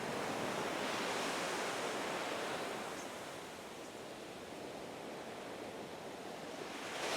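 Ocean waves break on a beach, a soft continuous rushing hiss that swells, eases slightly in the middle and builds again, with no voices.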